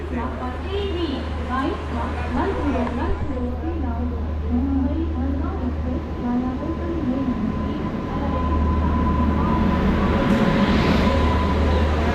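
Mandovi Express running from Mumbai toward the Konkan region, a loud steady rumble and rattle of the moving carriages heard from inside the train, continuous for the whole stretch, with voices talking over it.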